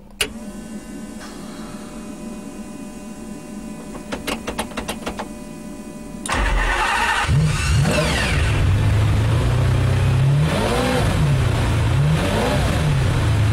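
Faint electrical whine of fuel pumps and a few clicks from the master switch and ignition, then a race-spec supercar engine fires up loudly and revs repeatedly, rising and falling in pitch.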